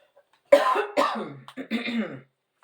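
A close, harsh fit of coughing, several rough bursts in quick succession, then silence.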